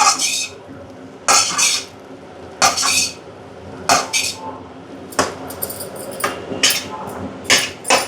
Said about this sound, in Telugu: ఇలా కలుపుకొని బాగా ఫ్రై అవ్వాలి మరి మరి ఒక టూ మినిట్స్ పాటు ఇలా కలుపుతూ ఉండాలి